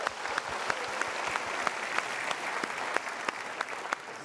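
Audience applause at a motivational talk, a steady dense wash of clapping with sharp individual claps standing out, fairly quiet and distant, with no talking over it.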